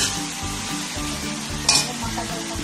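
Broth poured into vegetables frying in a pan, with steady sizzling and a brief louder splash of liquid hitting the hot pan near the middle, no talking.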